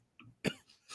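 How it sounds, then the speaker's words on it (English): A single sharp cough bursts out at close range, preceded by a faint vocal sound and followed by softer breathy noise and a rising rasp at the end. "Cough like a man."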